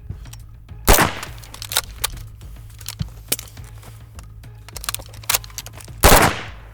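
An MP5 submachine gun chambered in 10mm Auto fires two loud, close bursts at the start and end, with sharp metallic clacks of a magazine change and bolt release between them.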